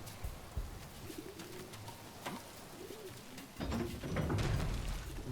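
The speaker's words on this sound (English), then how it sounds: "They were making pigeon sounds." Pigeons coo in the video game Submerged: Hidden Depths, soft low warbling calls repeating faintly over ambient game noise, with a louder swell of background sound toward the end.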